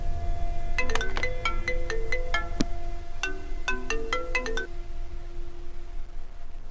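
A phone ringtone plays a tinkling, bell-like melody of quick bright notes, loud and close, over a low background hum, then stops.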